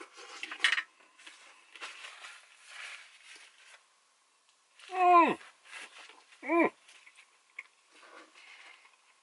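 Utensils cut through a slice of pizza grilled over embers at a campsite in a regional park, giving soft clinks and scrapes on a plate, with two sharp squealing squeaks near the middle and faint voices in the background.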